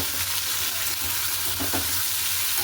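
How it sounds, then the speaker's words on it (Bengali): Turmeric frying in a pan gives a steady, close sizzle that holds at an even level, with a few soft stirring scrapes partway through and nobody talking. "এই যে দিয়ে দিচ্ছি হলুদ এটা ভাজা ভাজা হোক"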